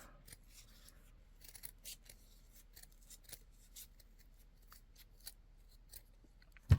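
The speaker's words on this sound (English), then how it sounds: "I'm just going to use the big scissors to cut the majority." Big scissors snip thread in quick, faint, irregular clicks and crisp cuts in a quiet room, ending with a sharper knock.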